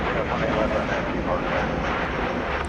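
A Boeing 777 bound for Doha moves at night at DFW Airport, giving a steady, loud jet-engine roar that holds evenly throughout without a break.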